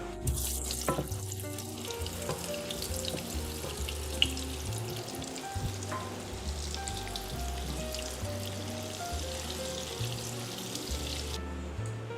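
Butter melting into hot chicken oil in a pan gives a steady, dense sizzle and crackle, loud and close, with a faint tonal hum underneath and no talking.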